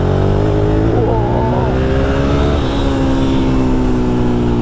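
A 1997 Suzuki TL1000S sport motorcycle engine revs up and accelerates hard, its pitch climbing over a steady roar, with a person talking over it.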